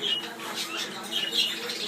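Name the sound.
budgerigars squawking in an aviary flight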